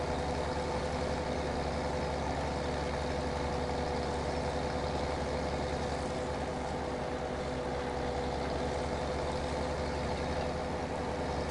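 Steady low engine drone of a tractor in Farming Simulator 17, running continuously at a constant level with a broad, even rumble and no voices.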